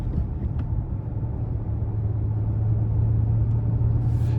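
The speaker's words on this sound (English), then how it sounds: "starting the test drive in this Palisade here, the V6 is relatively strong even in the normal drive mode" A 2025 Hyundai Palisade Calligraphy AWD with a V6 engine on a test drive gives a steady low engine drone and road rumble from inside the cabin, swelling slightly toward the end, with no talk.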